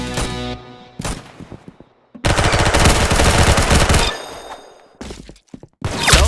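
Bursts of rapid automatic gunfire from the Roblox Arsenal shooter game, loud and close, broken by short pauses and single shots, with no one speaking.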